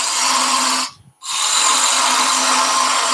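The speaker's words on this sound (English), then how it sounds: "I'm using a bowl gouge to do this." A bowl gouge cuts into wood spinning on a lathe, a steady close whirring hiss with a low hum beneath, briefly dropping to near silence for a moment before the cut resumes just as loudly.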